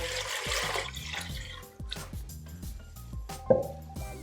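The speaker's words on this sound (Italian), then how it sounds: "adesso metteremo acqua 1 litro" Water is poured into a kitchen pot, a liter at a time, for blanching artichokes for preserving in oil, a bubbling glugging stream with splashes and drips, close and moderately loud, without talk.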